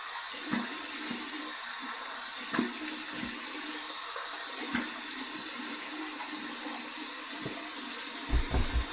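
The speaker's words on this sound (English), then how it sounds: "Here's my warm water rinse." Warm water runs steadily from a bathroom tap for rinsing a razor, a constant faint splashing stream with a few soft knocks and clunks over it.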